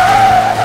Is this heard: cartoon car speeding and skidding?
yes